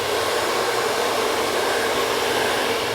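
A hair dryer blow-dries a short pixie crop, giving a loud, constant, close whoosh of air that stays unchanged throughout.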